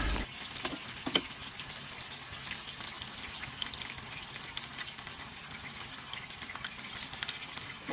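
Tofu fries in oil with a soft, even crackle, scattered small pops rising above the steady sizzle, fairly quiet and uninterrupted.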